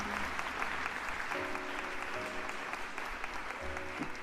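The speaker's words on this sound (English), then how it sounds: "Can we give a round of applause to Hector?" Steady applause from a small group greeting Hector, continuous and moderately close for the whole stretch, with a faint tonal hum of a stream setup beneath it and no talking.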